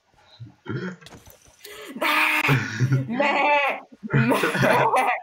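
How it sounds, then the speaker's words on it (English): Bleating from a video game sheep, wavering cries in several bursts, with a person laughing and talking over and between them. "a sheep is crying for mercy"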